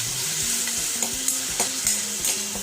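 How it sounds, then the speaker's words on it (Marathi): Green chili, ginger and garlic paste frying in a pan for vada pav while being stirred. A steady loud sizzle runs throughout, with scraping and clinking stirs, close up, with no talk. "यानंतर आपण यामध्ये जी हिरवी मिरची, अद्रक, लसणची पेस्ट केली होती ती घालून घेऊया आणि सगळं साहित्य छान असं कडू द्या"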